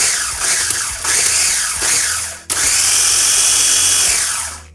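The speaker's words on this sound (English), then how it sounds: "They rev up their KitchenAids before a big cooking thing." A KitchenAid kitchen machine revving at high speed, a loud whirring motor whine that rises and falls in several surges, briefly drops, then holds a steady high pitch, alone with no talking.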